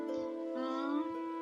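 A single drawn-out cat meow, rising slightly in pitch before fading, heard close and clear.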